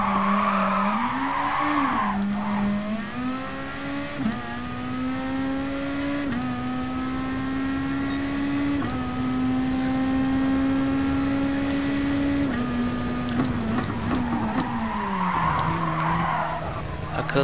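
A race car in the GT Sport video game skids as the rear slips, tires squealing with a sustained high screech over a droning engine whose pitch shifts with revs, loud and continuous.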